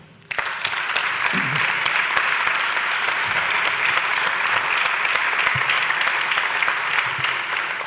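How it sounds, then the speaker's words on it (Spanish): An audience breaks into sudden applause for performers at a music event, loud dense clapping that starts abruptly and holds steady to the end. "Un aplauso"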